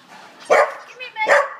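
A basset hound mix dog barks twice, close and loud, each bark short and sharp with a brief gap between them and no talking.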